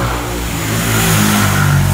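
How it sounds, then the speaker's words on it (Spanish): A motorcycle engine revs outside, a loud, continuous mid-pitched roar that swells slightly over two seconds without any voices. "Fucking moto de mierda."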